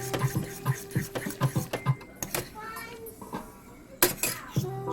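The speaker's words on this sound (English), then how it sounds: "Stirring the yakisoba sauce." A utensil stirs Menraku instant yakisoba with umami sauce in a pan, giving a run of short, close clinks and scrapes in an uneven rhythm, with a quieter pause midway.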